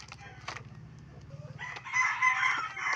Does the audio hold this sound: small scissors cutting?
no